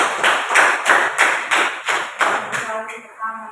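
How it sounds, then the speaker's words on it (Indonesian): Classroom students clapping together for a classmate in a steady rhythm of about nine quick claps, fading as a few voices start talking near the end. "Mari kita berikan tepuk tangan kepada teman kalian"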